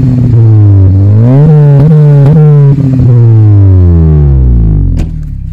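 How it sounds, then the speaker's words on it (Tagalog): Honda Jazz/Fit GK5 engine fitted with a new muffler, revved repeatedly up and down near the microphone, loud rising and falling tones with a throaty exhaust note, easing off toward the end. "Gusto ko yung maririnig ko lang yung bawat cambio ko, yung revolution ng makina."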